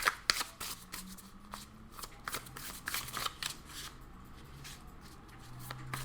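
Tarot cards being gathered up and shuffled by hand after several fell, giving close, crisp riffling and slapping bursts with soft rustling in between and no speech.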